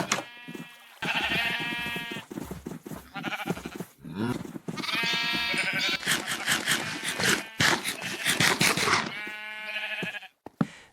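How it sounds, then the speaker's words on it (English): Sheep in the Minecraft video game bleating repeatedly in a series of loud, close, wavering cries with short gaps, heard on their own with no talking. "I feed the sheep again because apparently they're always hungry"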